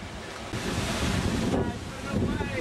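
Sutherland Falls on New Zealand's Milford Track roars as a broad, loud rush of falling water, mixed with gusty wind buffeting the microphone.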